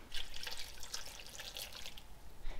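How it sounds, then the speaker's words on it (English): About half a cup of water poured into a pot of leaf lard on a stove, heard as soft close splashing and trickling with a few brighter drips, fairly quiet and alone. "we're gonna add about a half of a cup of water to get this lard going."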